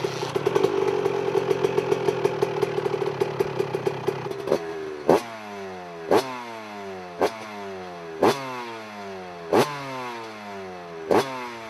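A 125cc motocross motorcycle engine rattles at a fast idle, then revs sharply in a series of about six separate bursts, each dropping back in between.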